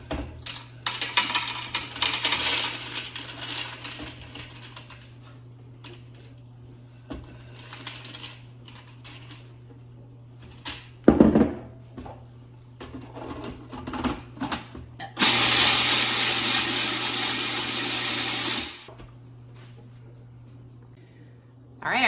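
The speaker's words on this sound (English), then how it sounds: "I'm gonna use a food processor today to get these crushed up" A food processor crushes pretzels in a kitchen, giving a loud, steady grinding whir that runs for about three seconds after scattered clatter and rattling, with a low hum underneath throughout.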